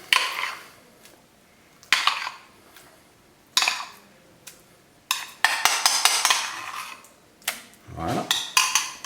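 Spoonfuls of dressing are dropped into a bowl of Russian salad (Olivier salad), giving several separate clinks and scrapes of a spoon against the bowl with quiet pauses between them, then a busier burst of clattering toward the end.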